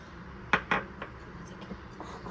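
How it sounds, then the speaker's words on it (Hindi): A spoon mixing condensed milk into cream in a bowl, with a few sharp clinks against the bowl followed by softer, scattered taps, close and fairly quiet. "इसको कंडेंस मिल्क को हम इसके अंदर अच्छी तरीके से मिक्स करेंगे"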